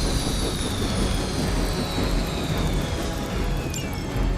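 Steady, loud rotor-and-engine roar of a helicopter in the video game Marvel's Midnight Suns, with a whining high tone, continuous and close, no voices.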